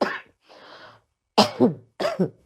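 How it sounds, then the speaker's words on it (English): A person coughs several times in quick bursts, clustered in pairs, close to the listener, with a short breathy pause between. "Don't worry about my cough."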